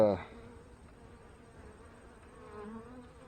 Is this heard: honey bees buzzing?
yes